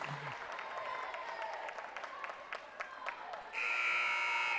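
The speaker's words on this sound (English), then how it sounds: "So the buzzer sounds for the very final quarter" A basketball game buzzer at a girls' high school championship sounds late in the clip as a loud, steady electronic tone, held to the end over gym crowd noise and chatter.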